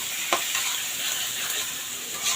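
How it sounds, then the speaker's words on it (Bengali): Onions frying in a pan for a chicken roast, a steady bright sizzle heard close, with a brief scrape near the start and a swell of crackling toward the end. "তার জন্য আমি পেঁয়াজটা সবার প্রথমে পেঁয়াজটা ভেজে নিচ্ছি।"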